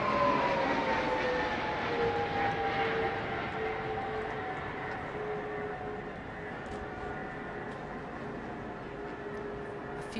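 RAF Voyager air-to-air refuelling and strategic transport jet flying past at a flypast, a steady distant engine roar with a slowly falling whine, fairly faint and without talk.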